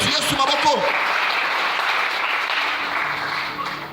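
A church congregation breaks into sustained, broad applause, loud and even, with a voice speaking briefly over the opening moments before the clapping carries on alone and slowly fades.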